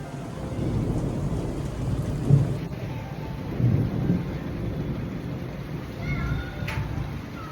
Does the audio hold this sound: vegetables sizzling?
no